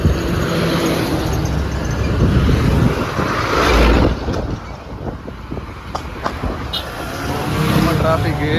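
Night road traffic on Tank Bund road in Hyderabad, with a steady broadband roar of cars passing close by and swelling and fading as vehicles go past, mixed with wind noise and some background voices.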